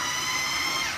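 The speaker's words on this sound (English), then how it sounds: "My dog hears the food processor and he thinks it's like, remember Pavlov's dog?" A food processor whirs as it chops pepperoni, a steady high motor whine that holds for about a second, loud and close.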